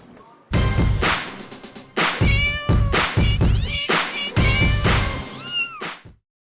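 A cat meows repeatedly and insistently, close and loud, with several drawn-out, wavering cries in quick succession over about six seconds.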